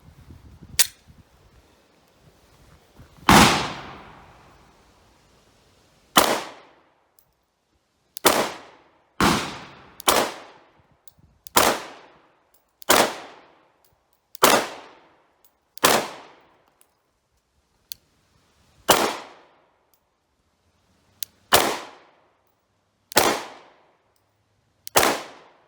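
A brand new Glock Model 45 pistol fires single sharp shots at an outdoor range, about a dozen loud, close cracks spaced a second or two apart, each with a short decaying tail, and no talking.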